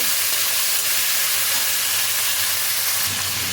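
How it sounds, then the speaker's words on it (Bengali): Chicken frying in white oil in a wok (kadai), a continuous loud, close sizzling hiss with no break. "দিয়ে এটাকে খানিকক্ষণ একটু ফ্রাই করে নেব।"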